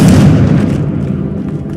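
A Confringo blasting spell explodes in the Hogwarts Legacy video game: one loud, close booming blast that rolls off into a fading rumble, with no voices.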